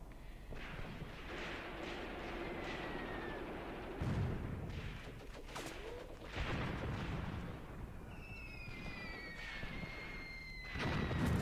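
Artillery shelling in the war game Graviteam Tactics, with heavy impacts booming at intervals over a rumbling battlefield bed, plus whistling incoming rounds and scattered crackling, moderately loud and mid-distance.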